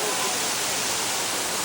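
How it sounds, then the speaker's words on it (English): Waterfall in Costa Rica, a large cascade heard as a steady, dense broadband roar of falling water that stays even and close throughout. "That's a fucking waterfall."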